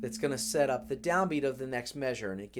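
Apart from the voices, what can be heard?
No distinct noise like a dog, phone or traffic.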